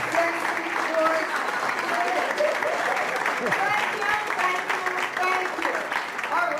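Audience at a hospitality and tourism luncheon applauds the panelists, a sustained round of many hands clapping with voices faintly mixed in.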